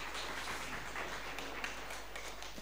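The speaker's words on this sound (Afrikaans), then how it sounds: "julle gee vir hulle lekker hande klap" A small audience, likely children at an event, claps hands in a steady, dense patter that continues evenly throughout without pauses, moderately loud and even.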